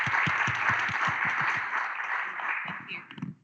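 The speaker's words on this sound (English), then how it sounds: "So please, ladies and gentlemen, a round of applause for this esteemed panel today." Audience clapping for a panel at an energy conference, a dense round of applause with distinct claps that gradually thins and fades out toward the end.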